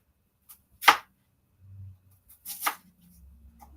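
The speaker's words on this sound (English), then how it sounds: "I'll do that with the red onions. But we cut them in wedges." Two distinct knife chops through red onion being cut into wedges on a board, well spaced and close up, with faint handling sounds between them and no talking.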